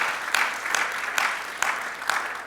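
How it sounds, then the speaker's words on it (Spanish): A church congregation claps in praise during a Spanish-language sermon, a continuous moderate patter of hands with a few sharper claps standing out at regular intervals. "Dale un aplauso de alabanza al Señor."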